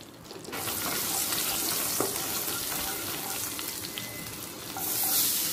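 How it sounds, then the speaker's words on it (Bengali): Chopped onions, two large ones, dropped into hot mustard oil in a wok and frying for paneer do pyaza, a loud continuous sizzle that swells near the end. "দুটো বড় সাইজের পেঁয়াজকে কুচিয়ে নিয়ে তেলেতে দিয়ে দিলাম।"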